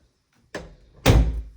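A storage closet door in a house opens with a soft click and then a louder thump or rush of movement, close and brief.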